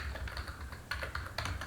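Fingers tap quick bursts of keystrokes on a computer keyboard, clicking in irregular clusters at close range, fairly quiet, with no voices present.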